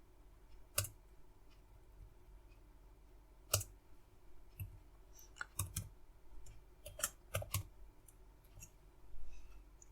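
Sparse computer keyboard clicks while Python code is typed, single sharp taps and short clustered bursts separated by quiet gaps, close and fairly soft.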